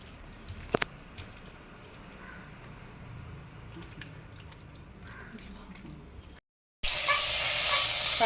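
Cumin seeds sizzle and crackle in hot oil in a pan, a steady faint frying hiss with a few sharp pops, cut off by a brief silence before a louder hiss starts.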